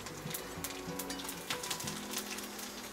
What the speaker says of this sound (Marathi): तेल बघा गरम झालेलं आहे, आता त्याच्यामध्ये बघा जिरे, लसूण शक्यतो कुटूनच टाका